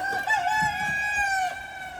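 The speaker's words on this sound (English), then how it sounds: "them roosters are sounding off" Roosters crow loudly and close by on a farm animal sanctuary, one long drawn-out, wavering call that rises and then falls away, with no talking.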